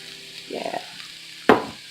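Sweet potatoes frying in a pan with onion and garlic for a gluten-free vegan sweet potato and kale dish, with a soft sizzle and a short stirring scrape, then one sharp clack of a utensil against the pan.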